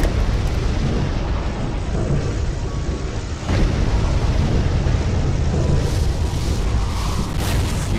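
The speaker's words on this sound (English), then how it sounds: "Oh, grenade!" A grenade goes off in a first-person shooter game, a loud sustained rumbling blast that stays heavy for several seconds, with a sharp cut in the middle before the roar resumes.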